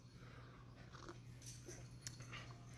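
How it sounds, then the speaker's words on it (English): Dogs playing somewhere in the distance in an arid high-desert setting, with faint whimpers, growls and breathy sounds over a steady low hum. "Dogs are playing over there."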